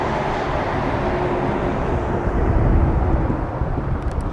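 An MD-11 jet at Toronto Pearson airport roars with a broad, steady engine rumble and rushing noise, loud and continuous, swelling slightly then easing.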